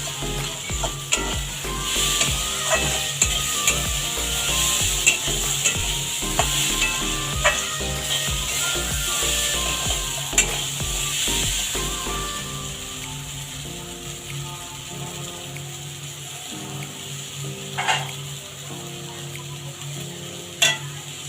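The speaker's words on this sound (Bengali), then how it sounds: "ছোলা ভাজাটা হয়ে গেছে, আমি আর একটুখানি নাড়াচাড়া দিয়ে নামিয়ে দেবো।" Chickpeas frying in a pan are stirred with a utensil, giving a steady sizzle broken by repeated scraping and stirring strokes, close and alone with no talk.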